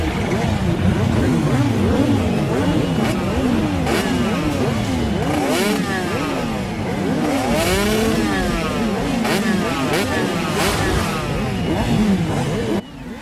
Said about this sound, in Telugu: వీడవరా బైక్ ఎత్తుతున్నాడు?